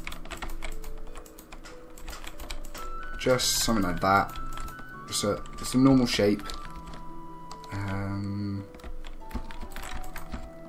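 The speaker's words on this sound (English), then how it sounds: "Sorry about the noise of the keyboard." Clicking keystrokes from a noisy old computer keyboard tap in quick irregular bursts, close to the microphone, continuing under and between a man's speech.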